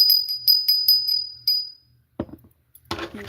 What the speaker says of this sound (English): I'm going to ring my bell just to clear the energy.